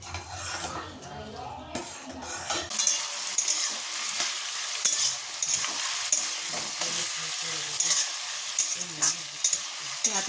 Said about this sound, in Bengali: তরকারিটা করবো বলেই যে কিমা আর পেঁয়াজ ভাজছি